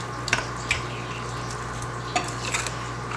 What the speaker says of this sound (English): And then you mix it up. You give it a stir.